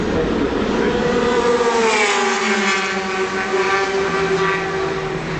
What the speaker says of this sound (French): Et le retour en piste aussi de l'Audi numéro 2, Alan McNish, qui est resté au volant.